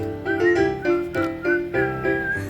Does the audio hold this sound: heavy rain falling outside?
no